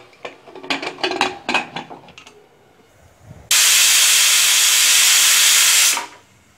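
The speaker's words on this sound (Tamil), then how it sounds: "இப்போ ப்ரெஷர் ரிலீஸ் ஆயிடுச்சு." A pressure cooker holding mutton lets out its steam in one loud, continuous hiss that runs for about two and a half seconds and then cuts off. Soft clatter of pots comes before it.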